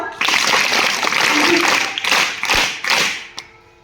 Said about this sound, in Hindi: वेलकम करने के लिए फिर से तालियां बजाओ